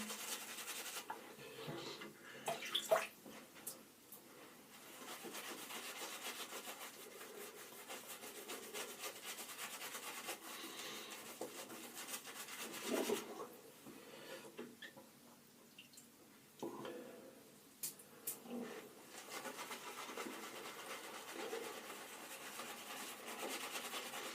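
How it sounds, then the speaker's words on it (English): A shaving brush works soap lather on a face before a straight-razor shave, giving soft, continuous wet rubbing and swishing strokes, close and quiet, with small bursts of louder scrubbing. "I'm starting to get a nice thick lather now."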